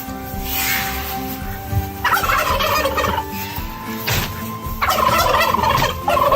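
Chickens about to be fed make a loud, close, busy chorus of warbling, gobbling calls, rising in waves and continuing without any talking.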